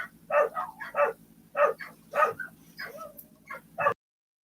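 A dog barks repeatedly outdoors in the middle of the day, a loud, close series of sharp bow-wow barks and yips at an irregular rhythm lasting about four seconds.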